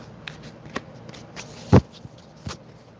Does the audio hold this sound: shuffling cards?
yes